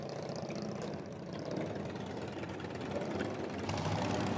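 A motorcycle engine idles steadily nearby with a low, even throb that holds at a constant level throughout, and no voices are heard over it.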